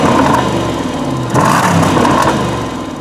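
Supercharged V8 of a Jaguar XJ revving, a loud, close engine note rising and falling in two strong surges with a whirring top end.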